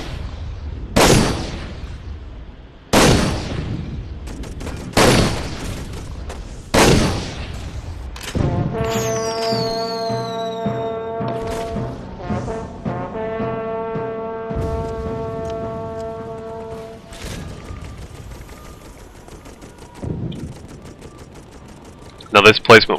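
Gunfire from the World War I strategy game Toy Soldiers on the Gheluvelt Chateau map: several loud, separated booming shots, then sustained tonal horn-like blasts and rattling fire, with someone talking over parts of it.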